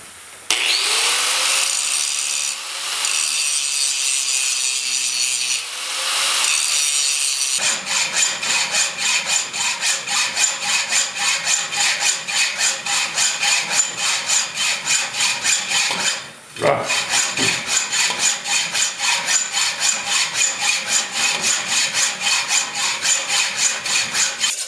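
An angle grinder faces off the tailstock of a Delta wood lathe, a harsh steady grinding with a brief higher whine at the start, then continuous abrasive rasping broken by one short pause.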